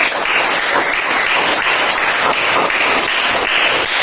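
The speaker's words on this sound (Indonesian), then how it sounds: "Oke, beri tepuk tangan dulu." Steady, loud applause from a classroom of students after a group presentation, dense clapping sustained throughout without pause and no speech over it.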